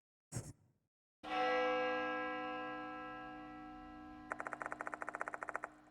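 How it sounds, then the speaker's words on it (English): A school clock tower bell in a horror video game rings with one loud sustained toll that slowly decays, preceded by a brief thud and joined near the end by a rapid metallic ticking pulse. "The sound of a bell rings loudly in my ears. Must be coming from the school's clock tower."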